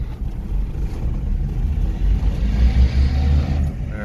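A John Deere minitruck's engine under acceleration in a parking lot gives a low, raspy rumble that swells and wavers throughout, close and fairly loud with no talking.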